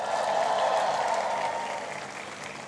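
Dense applause from a convocation audience at a graduation ceremony, steady and loud at first, then thinning slightly toward the end, with no voices standing out.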